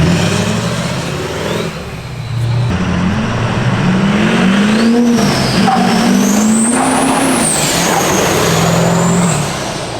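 A solid-axle-swapped Duramax diesel truck with giant compound turbos accelerating hard, a loud close engine roar climbing in pitch with a rising turbo whine and rushing air over about ten seconds.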